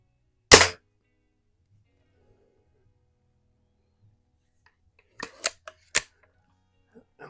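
A Tom Palmer 499B BB gun fired at cardboard: one sharp, loud snap, then after a quiet gap a quicker cluster of smaller clicks and snaps close by, with faint murmured speech in between.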